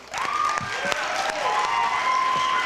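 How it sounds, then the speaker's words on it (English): An audience at a school spring concert applauds, a steady mass of clapping with a faint cheer or two, while a voice speaks briefly over the top. "Give them another round of applause."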